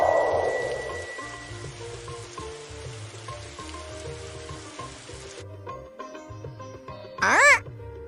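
Steady rain hisses in a video game for about five seconds, then stops abruptly, leaving soft musical tones and a short bright chirp near the end.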